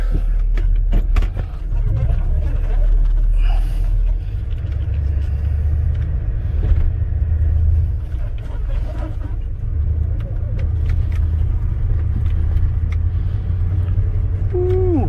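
Restored Chevrolet C10 Silverado pickup with a 350 V8 on a drive, a steady low engine and road rumble running throughout, with faint interior clicks and a brief squeak near the end.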